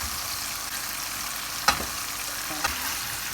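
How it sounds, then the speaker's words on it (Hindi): Chicken tikka fries with masala in a karahi, a low steady sizzle close up, broken by a couple of sharp utensil clacks against the pan, with no talk. "अब हम चिकन के साथ सारा मसाला जो है ना वो अच्छे से भून लेंगे"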